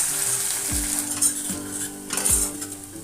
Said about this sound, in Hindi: इसको हम अच्छे से मिक्स करके हमारे मसाले थोड़े हल्के गुलाबी हो जाए तब तक हम इसको अच्छे से भून लेंगे।